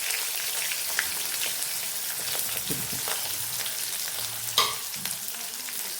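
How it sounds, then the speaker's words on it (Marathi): Chopped onion frying in cumin and mustard seeds in a pan, a steady hissing sizzle with light crackles, a couple of stirring scrapes and one brief louder knock. "कांदा व्यवस्थित परतून घ्यायचा"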